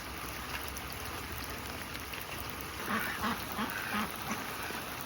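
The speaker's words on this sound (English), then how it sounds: "The ducks are excited" Ducks quack outdoors during a spring thaw: a short run of quick quacks at middle distance over a constant wash of rain-like dripping.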